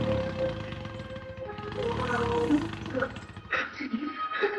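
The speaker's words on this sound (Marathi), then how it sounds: "इकडे बघा पीटीओ चालू आणि ट्रॅक्टर पास आहे." A farm tractor runs with its PTO engaged while tending marigold plants, a steady loud engine drone filling the clip with a mechanical change near the end, under outdoor voices.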